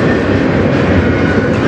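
A CN freight train rumbles past on the Strathroy Subdivision, loud and very close, a dense continuous roar of wheels and cars with no voices over it.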